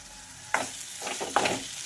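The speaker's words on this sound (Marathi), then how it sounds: "याला छानपैकी असं फ्राय करून घ्यायचं आहे" Spice masala of garam masala and red chilli powder frying in a pan for a Vidarbha-style tur ghugrya dish, a steady soft sizzle with a couple of sharper stirring scrapes, fairly close and alone.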